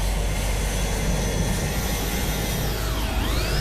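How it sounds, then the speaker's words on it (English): Jet engines on a PMDG Boeing 777 in a flight simulator spool up with a steady, loud roar and a rising whine that sweeps upward near the end, with no talk. "the engine is pulling up and turning on slowly"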